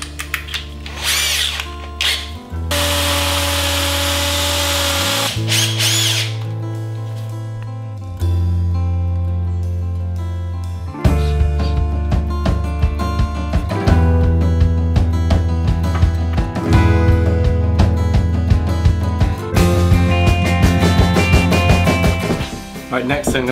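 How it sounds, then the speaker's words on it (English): A hammer drill with a 6mm bit bores into concrete for plug-free concrete screws, running in several loud, close, steady whining bursts with short pauses between them. "And then switch to a hammer drill. A 6mm bit for these are kind of concrete screws"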